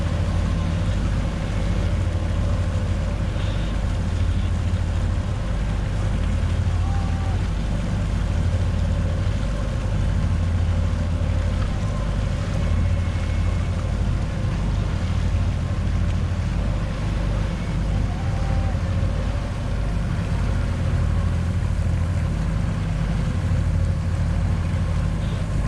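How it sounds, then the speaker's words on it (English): Big power boats pass by on open water, a continuous low engine rumble mixed with wind buffeting and wake wash, steady and moderately distant throughout. "A couple of big power boats going by, making a wake for them."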